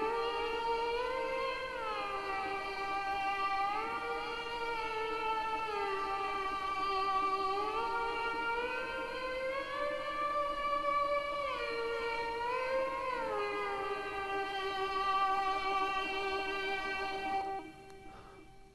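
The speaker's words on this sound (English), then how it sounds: "by using the pen on the strings rather like a bow" Electric guitar strings bowed with a pen, run through an amp simulator with delay, distortion and compression, produce slow, sustained gliding tones that rise and fall in long, whale-like swoops, steady and alone before cutting off near the end.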